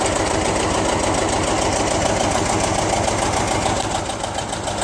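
John Deere 37 sickle bar mower running on grass, a loud steady rapid clatter of the reciprocating cutter bar with a constant mechanical rhythm, close up.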